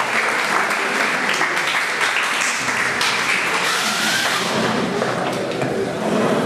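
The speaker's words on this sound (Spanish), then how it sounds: "para quien pido nuevamente un fuerte aplauso" Dense, loud audience applause for a lecturer after a law lecture, a continuous wash of many hands clapping close by that holds steady throughout.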